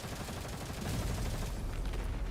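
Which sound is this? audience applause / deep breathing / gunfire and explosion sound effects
gunfire and explosion sound effects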